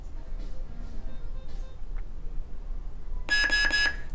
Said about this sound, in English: holding the button till it beeps